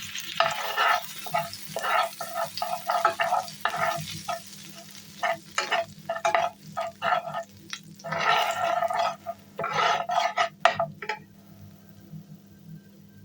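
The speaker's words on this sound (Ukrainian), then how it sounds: "беру сковорідку, ставлю на вогонь, кидаю 50 грамів вершкового масла, додаю ложку борошна" Bursts of sizzling and scraping as butter and flour are stirred in a hot pan, with crackly frying noise rising and falling, no voices.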